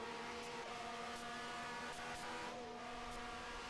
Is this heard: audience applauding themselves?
no